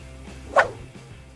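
A Doberman gives a single short bark, loud and close, rising briefly out of a low background hum.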